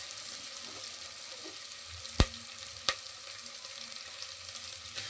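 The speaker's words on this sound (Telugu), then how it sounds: "అలా పచ్చిమిర్చి వేసేస్తా. ఇది కొంచెం వేగాలన్నమాట." Green chilies fry in a pan with a steady, fairly faint sizzle, broken by two sharp clicks near the middle; no one speaks.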